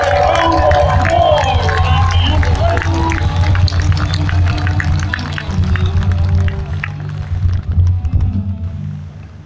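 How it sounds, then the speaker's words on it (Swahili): A church congregation at a gathering applauding and ululating, loud dense crowd noise with high trilling cries and clapping that tapers off toward the end. "Mpe Mungu makofi mengi na vigelegele."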